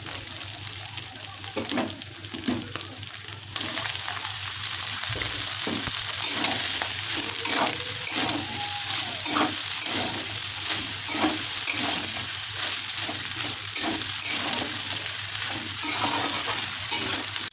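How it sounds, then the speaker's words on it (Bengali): Pasta fries in a pan over a low flame, producing a steady close sizzle with stirring scrapes and spatters that grow fuller after the first few seconds. "এবার পাস্তাটা আস্তে আস্তে ভাজা হোক"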